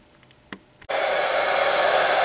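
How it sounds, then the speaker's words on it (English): A few faint clicks and taps, then a hair dryer switches on to dry paint on a swimbait fishing lure, blowing with a steady, loud whooshing hum. "I'm drying it with a hair dryer now"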